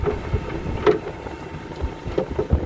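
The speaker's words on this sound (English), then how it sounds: "That wind is really blowing." Strong wind gusting outdoors buffets the microphone with a low, uneven rumble that swells and fades in bursts, with no voices.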